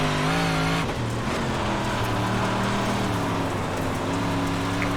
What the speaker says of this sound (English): God, that bogged down like the engine was dying there.